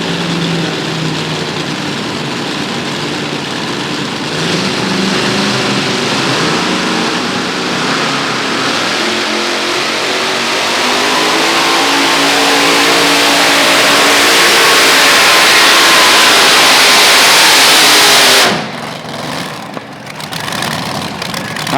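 Multi-engine pulling tractors rev hard at a county fair pull, a loud, dense, sustained engine roar building in intensity for about eighteen seconds before cutting off abruptly, leaving a lower rumble.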